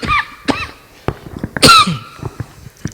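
A person coughs loudly a few times in short bursts, with one stronger hacking cough partway through, close and clear with no talk.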